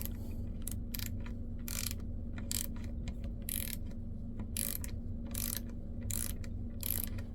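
A VIM dual drive flex ratcheting wrench with a 1/4 inch drive clicks in quick, uneven bursts of sharp ratchet ticks, close and fairly crisp over a low background hum.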